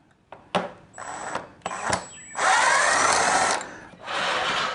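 A power drill backs screws out of a wind machine fan in short whirring bursts, first a few brief stops and starts, then a longer steady whine and one final run, all loud and close.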